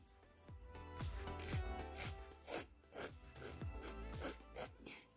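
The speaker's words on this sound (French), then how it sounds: "je vais prendre une lime grain 180" A 180 grit nail file scrapes across a gel capsule on a fingernail in quick, close strokes, a crisp rasping rhythm of roughly two strokes per second, soft and with no talk.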